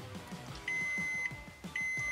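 Electronic beeping from a ZUS smart tire pressure monitor receiver pairing: two long, steady high-pitched tones, each preceded by short chirps, over a faint background hum.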